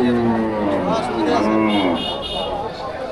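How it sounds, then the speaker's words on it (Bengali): Cattle lowing at a village livestock market selling lean cows and bulls, a loud, close moo with a wavering pitch that stretches across the moment, over faint background chatter. "এই যে এইদিকে আরো গরু আছে"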